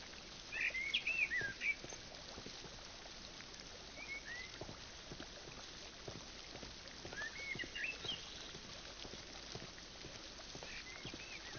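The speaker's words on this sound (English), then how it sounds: "Why are there bird noises." Birds in the Sherlock Holmes: Crimes and Punishments video game, a few faint chirps and short trilled calls in two brief bursts over a quiet, murky ambient background.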